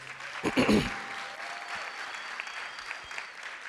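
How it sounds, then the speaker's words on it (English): A round of applause from the audience at a school poster competition awards ceremony, starting with a loud burst and then settling into steady, moderate clapping that carries on to the end. "let's give everyone a round of applause"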